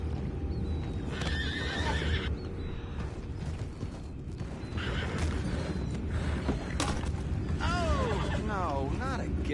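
Horses in the video game Red Dead Redemption 2 whinny and snort amid clip-clopping hooves and creaking tack, under steady background noise and voices, with sharper neighs toward the end.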